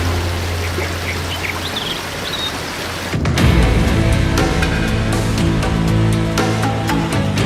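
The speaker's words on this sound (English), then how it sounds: "And the different waterfalls all across the Northeast." A waterfall in Northeast India, heard first as a softer rushing flow, then a sudden loud close roar of pouring, splashing water that stays steady for several seconds.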